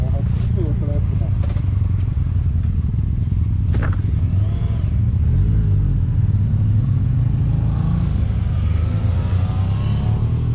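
A Yamaha MT-09 and an Aprilia Tuono V4 1100 Factory ride the Rossfeldstrasse mountain road, a steady loud engine drone with constant low rumble and shifting revs, heavy wind buffeting throughout, and no speech.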